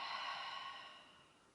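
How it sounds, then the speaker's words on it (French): One long exhale during a body-control exercise class, a breathy, airy rush close to the microphone that fades steadily over a second and a half. "Inspirez et soufflez."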